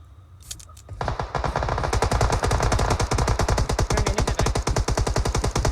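Rapid automatic gunfire rattles in PUBG Mobile on the Sanhok map. After a brief quiet start, a long loud burst of evenly spaced shots runs close and unbroken to the end.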